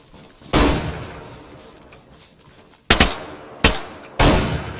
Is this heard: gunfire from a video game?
yes